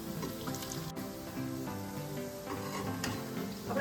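Muthiya dumplings fry in hot oil for Kathiyawadi undhiyu, a steady, dense crackling sizzle throughout with faint scraping.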